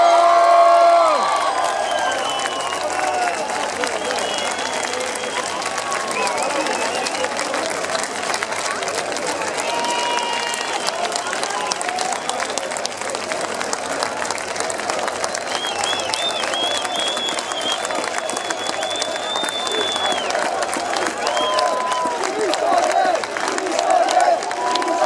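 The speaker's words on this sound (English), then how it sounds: "Please give an enormous round of applause for Chris Cornell." A large festival crowd at Download Festival Madrid applauds and cheers in a sustained roar, with scattered whoops and shouts over the clapping throughout.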